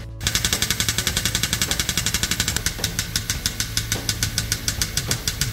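A small pump bottling whisky from a cask chugs in a fast, steady mechanical rhythm, close and continuous with a faint background murmur.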